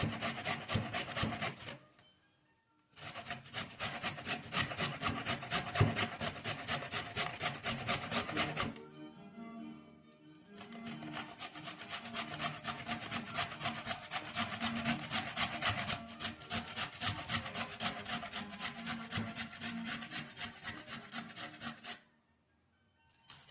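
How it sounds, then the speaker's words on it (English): A carrot is rubbed up and down a hand grater in quick, even rasping strokes, close and steady, with two short pauses and no talking. "careful with your fingers as you get down close to the grater."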